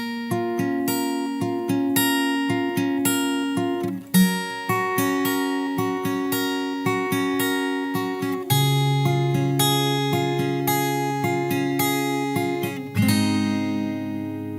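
Fingerstyle acoustic guitar plays the opening part of a song, with plucked melody notes over a steady bass in an even rhythm, played close and clear with no voice.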